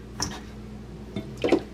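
Water drips and squishes from freshly rinsed garlic scapes sitting in a colander, a few close, soft splats and trickles spread over a quiet moment.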